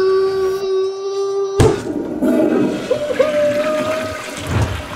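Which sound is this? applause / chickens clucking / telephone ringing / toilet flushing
toilet flushing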